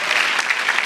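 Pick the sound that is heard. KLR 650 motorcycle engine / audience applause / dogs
audience applause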